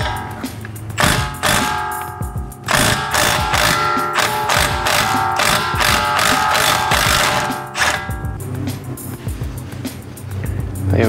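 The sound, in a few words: wrench loosening 32mm hub nut on Alfa Romeo GT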